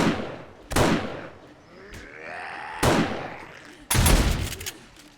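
Shotgun blasts in the zombie survival game 7 Days to Die, Alpha 16, as a wandering horde approaches: three loud, sharp booming shots spaced about a second apart, each trailing into a ringing decay.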